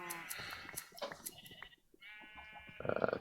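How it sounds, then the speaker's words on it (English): Blocky sheep in Minecraft bleat in a few short, wavering cries, close and clear over quiet game background, no speech. "I have a sheep here."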